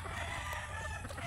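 Chickens heard faintly over a steady low hum, a soft rooster-like crow and clucking in a farmyard setting, brief and distant.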